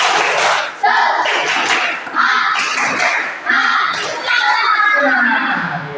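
A classroom group performs a rhythmic 'tepuk semangat' clapping chant to open a coding and AI lesson, loud and near, with several bursts of claps mixed with children's voices chanting in unison.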